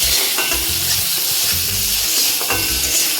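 Green chillies go into an eggplant curry frying in a pan, and a spoon stirs and scrapes in a steady rhythm over a loud, continuous sizzle.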